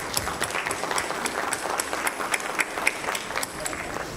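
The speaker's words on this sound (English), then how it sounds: "let's give you all a round of applause" An audience at a suicide awareness summit gives a sustained round of steady clapping, heard from within the room at an even level, with some faint crowd murmur.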